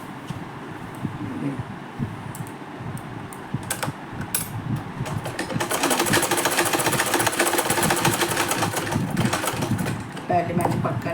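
A sewing machine stitches a blouse with rapid mechanical chatter, growing louder and steadier in the second half as the run continues, while a voice talks over the rattle nearby.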